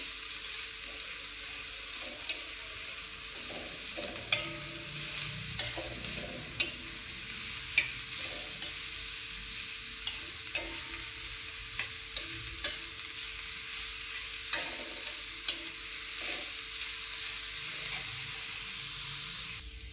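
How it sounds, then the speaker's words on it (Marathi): Onions frying in a pan for paneer bhurji, a steady bright sizzle running throughout with scattered scraping clicks from stirring, close and alone with no voices. "कांदा चांगला तळून घेते."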